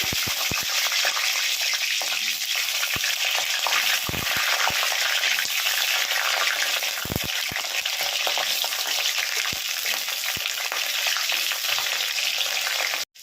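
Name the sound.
potatoes frying in hot mustard oil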